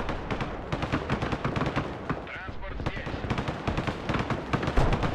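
Bombs exploding in the video game Broken Arrow, a dense barrage of booming blasts and crackling gunfire rolling continuously with sharp peaks, while a player talks over the battle.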